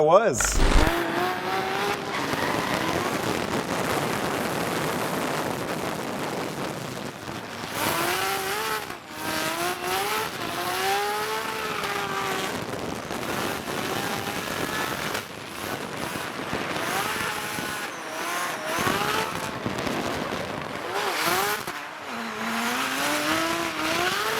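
Freddie's drift car at Formula Drift Long Beach media day: a loud, sustained engine roar with rising and falling revs, wavering tire squeal and bursts of skidding, with a voice heard at times underneath.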